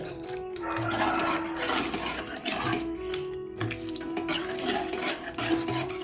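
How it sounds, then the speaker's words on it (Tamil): A spoon scrapes and clinks against a metal pot while cooked lentils and bottle gourd are stirred, a close, rhythmic stirring with repeated metallic taps and no talking. "இப்படி ஒரு கலக்கி விட்டுங்க"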